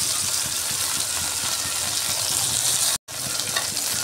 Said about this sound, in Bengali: ভেন্ডিগুলো ভেজে নিয়েছি